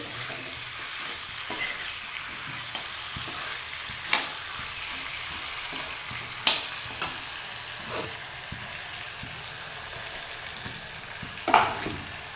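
Mixed vegetables with potatoes fry in a pan, a continuous sizzle with periodic scraping stirs and occasional clinks of a spatula, steady and close with no talking.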